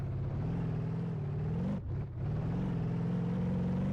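A car engine hums steadily while driving along curvy roads, its pitch rising and falling with a brief dip midway, heard close from inside with no talk.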